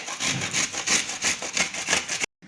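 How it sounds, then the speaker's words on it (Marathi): Bitter gourd pieces are grated by hand in a home kitchen, a close rasping scrape repeated in a steady rhythm of quick strokes before stopping abruptly. "आता आपण ही कारली खिसून घेणार आहोत"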